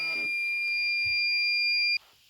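Vintage COMX-PC1 home computer letting out a steady, piercing electronic beep that holds for about two seconds, then cuts off abruptly, with a faint low knock partway through and no talking.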